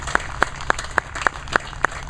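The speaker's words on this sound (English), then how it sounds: "And a special round of applause, if you would, for all the brave men and women that serve this country each and every day" Seven sharp, evenly spaced hand claps ring out at a ceremony honoring service members, each crisp and distinct over a low background hum.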